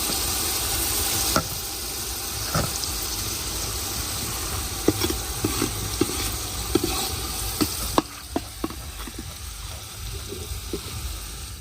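Garlic paste sizzles and fries steadily in hot oil in a pot, a continuous crackling hiss broken by occasional sharp knocks and stirring taps of a utensil against the pot.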